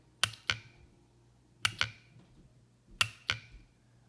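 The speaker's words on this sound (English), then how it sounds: "So we're gonna use this jump starter box and put 12 volts to each side. You're gonna hear it click." Honda Fit transmission solenoid clicking as 12 volts from a jump starter box is applied, three paired sharp clicks spaced about a second apart, close and crisp with no talking.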